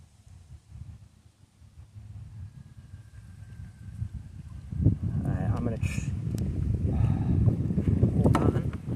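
Outdoors on a fishing trip, gusty wind rumbles into the microphone, low and quiet at first, then building into heavy buffeting that continues to the end.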